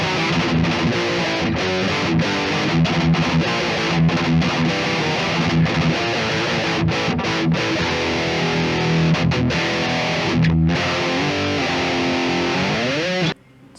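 A heavily distorted electric guitar through an amp plugin with reverb plays chugging riffs with sharp accents and brief stops, loud and saturated, ending with a short slide.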